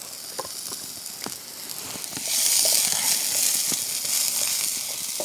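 Onions frying with a little olive oil in a hot pan for low-carb corned beef hash, a crackling sizzle with scattered pops that swells louder partway through.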